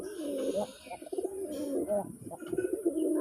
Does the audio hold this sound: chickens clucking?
no